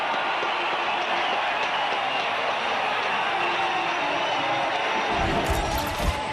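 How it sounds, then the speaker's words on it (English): A baseball stadium crowd roars after a line-drive base hit, a dense, sustained wash of cheering and clapping at steady loudness, with a sharp thump near the end. "Listen to the crowd."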